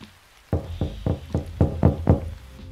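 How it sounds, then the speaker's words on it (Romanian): Loud knocking on a door: six heavy, evenly spaced thumps in quick succession, close and alone over faint background hiss. "am auzit niște bătăi puternice în ușă"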